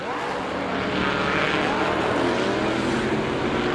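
A Lamborghini race car's V10 engine revs while stuck out of gear on a race circuit, a loud, sustained buzzing roar picked up by trackside microphones, with commentators talking over it.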